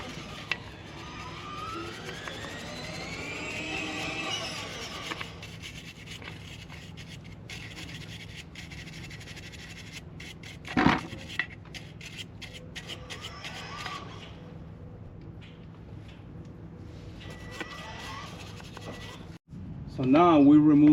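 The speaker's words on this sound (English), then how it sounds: "we're gonna use this brush." Stiff brush scrubbing rear brake parts on a Toyota Camry, a steady scratchy rubbing that runs through most of the stretch with a few sharper knocks along the way.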